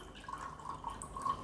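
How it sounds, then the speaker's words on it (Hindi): Soaked chickpeas are washed in plain water, producing faint, quiet dripping and light splashing that trickles on steadily, close by and with no talk. "तो यहाँ पे नॉर्मल पानी से हमने ये चने वॉश किए"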